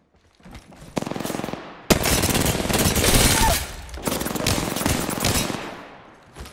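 Rapid automatic gunfire in the Apex Legends video game, playing as Wraith in a squad fight, with long loud bursts of shots separated by brief pauses, up close and sustained.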